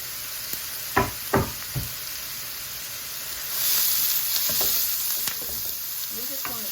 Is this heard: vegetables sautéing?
yes